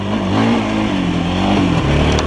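A car engine revs hard as the driver gives gas on a snowy road in winter, a loud, steady rising drone close by with no talking.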